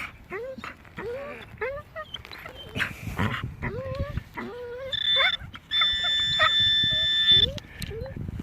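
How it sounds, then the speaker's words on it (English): A dog excited from playing with sticks gives a rapid run of high, yelping barks and whines, close and insistent, and later a sustained metallic ringing tone sounds alongside it. "He's been playing sticks, driving me crazy with his barking."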